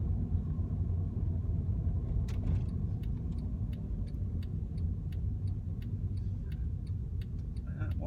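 A stationary car's engine idles with a low, steady rumble inside the cabin during a UK mock driving test, while a regular indicator-like ticking clicks on top.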